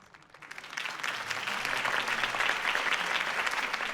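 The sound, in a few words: crowd applause in video game Batman The Telltale Series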